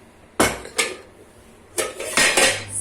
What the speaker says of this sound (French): Moi, je couvre juste comme ça et poser ça près d'un endroit chaud.